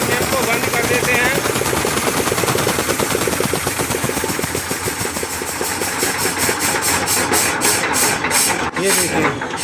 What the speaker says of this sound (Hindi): यहाँ से इंजन को बंद कर देते हैं।